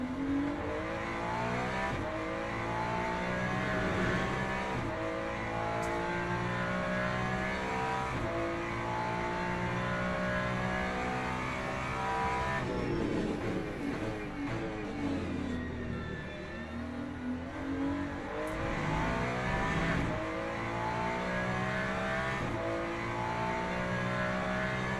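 A GT3 race car in Le Mans Ultimate drives laps at Portimao, its engine droning continuously and loud. It revs up and down through repeated gear shifts, with a deeper lift and dip around the middle and no voice over it.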